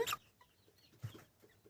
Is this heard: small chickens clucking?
yes